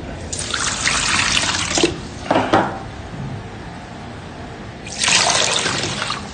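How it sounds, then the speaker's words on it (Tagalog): Tap water pours into a cooking pot while crispy pata is being prepared: two gushing bursts with a quieter trickle and a brief splash between them, close and clear with no talk. "Talagyan natin ng tubig."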